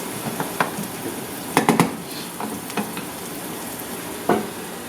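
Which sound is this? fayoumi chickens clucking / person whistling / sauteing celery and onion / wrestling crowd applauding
sauteing celery and onion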